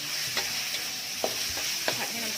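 Minced pork stir-frying in a hot pan, a steady sizzle with a few soft scrapes and clinks of a spatula breaking up the meat, close and alone with no talking.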